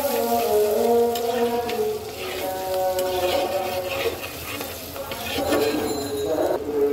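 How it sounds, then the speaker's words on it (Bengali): Potatoes fry in a pan with green chillies, turmeric and coriander powder while a spoon stirs them, giving a loud continuous sizzle with scraping and light clinks close by. "সব কিছু একসাথে সুন্দর করে ভাজা ভাজা করে নেব"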